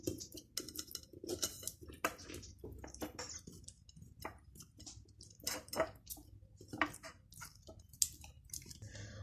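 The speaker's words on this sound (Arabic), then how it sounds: "هعمل في الفرخه كلها فتحات وفي الظهر كمان" A knife cutting slits all over a raw chicken, including the back, heard as quiet, close, irregular wet squishing and tapping strokes spread through the clip without speech.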